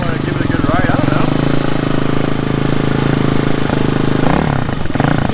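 A HAWK 250 Chinese dirt bike engine runs close by with a rough, rapid mid-pitched putter, holding a steady idle with slight rev changes before a brief shift near the end.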